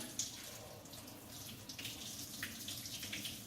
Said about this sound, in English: we need to dump the water out that we used to cook them